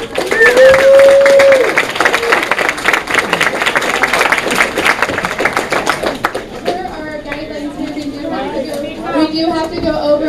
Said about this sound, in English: giving a round of applause to all the volunteers helping tonight and everybody for showing up